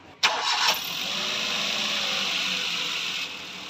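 A Maruti Suzuki WagonR, just back from an engine overhaul with fresh oil and a cleaned filter, cranks briefly and catches, then settles into a steady, even idle recorded right beside the engine, with no voices.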